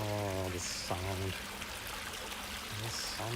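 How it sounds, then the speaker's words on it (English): Water flows steadily with a constant rushing, streaming sound during an early morning walk in Tokyo, Japan, while a person talks over it in short phrases. "The sound of water."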